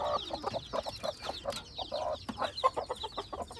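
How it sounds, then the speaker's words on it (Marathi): A white hen clucks repeatedly among her chicks, short close clucks in an uneven rhythm with faint chick peeps around her and no talk. "आपल्या दुसऱ्या कोंबडीला पिल्ले घातलेत म्हणजे जी व्हाईट कलरची कोंबडी ना दाखवतो मी"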